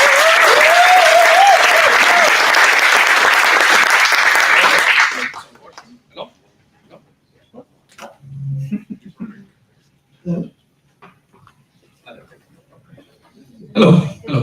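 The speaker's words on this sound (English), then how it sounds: "Please round of applause." A burst of loud crowd clapping and cheering at a startup demo night fills the first five seconds, then fades into quiet room noise with a few scattered coughs and shuffles.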